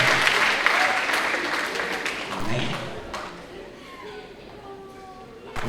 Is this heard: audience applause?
yes